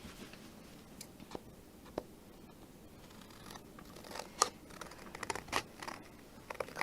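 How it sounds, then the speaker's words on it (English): Scissors trim craft card around its edge to make a sturdy background, giving faint, sparse snips and small clicks at close range that grow a little busier toward the end. "And then we'll just trim around the edge."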